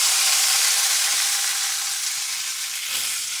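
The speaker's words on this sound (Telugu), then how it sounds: "దీంతో పాటే మనం వంకాయలు కూడా కలిపి వేయించుకోవచ్చు" Green chillies and brinjal frying in a pan for a chutney, a steady loud hissing sizzle that fades slightly, with a faint stir or scrape near the end and no voices.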